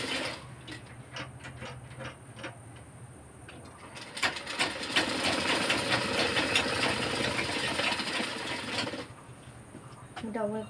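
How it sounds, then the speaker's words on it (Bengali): A sewing machine runs in short bursts and then a longer steady stretch while double stitching a doll's mosquito net, a fast rattling hum, with someone talking quietly over parts of it. "ডবল করে সেলাই করবো"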